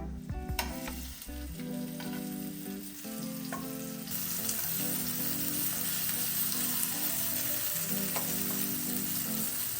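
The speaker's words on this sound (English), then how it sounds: "we're gonna make sure to fry the jackfruit on both sides" Jackfruit pieces frying in an oil-filled pan, a steady close sizzle with occasional stirring and small pops, growing slightly louder partway through.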